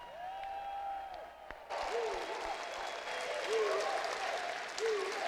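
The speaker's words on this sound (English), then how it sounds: "Very enthusiastic response there from this Rockford, Illinois crowd." Crowd applause at the 2019 North American Olympic Table Tennis Trials in Rockford, Illinois, with a thin tonal sound fading early before the clapping surges up and holds steady, mixed with scattered cheers and whoops.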